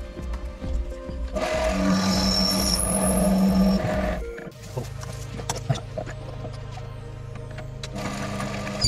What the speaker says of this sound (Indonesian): Kita bor untuk ruang plenum di sini.